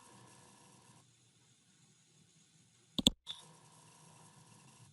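A single computer mouse click in Windows, a sharp close tap standing out against a faint background hum in an otherwise quiet room.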